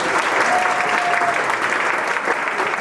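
An audience at a board of directors installation claps in a short, dense burst of applause that stays loud and steady for about three seconds.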